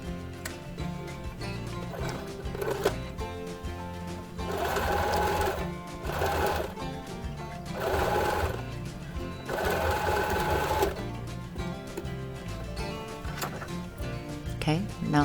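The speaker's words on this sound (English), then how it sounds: "now we're gonna bring this to a sewing machine and sew over the nose wire piece" A sewing machine stitches over the nose wire of a fabric mask, its needle clattering rapidly in bursts of several seconds with short pauses between runs.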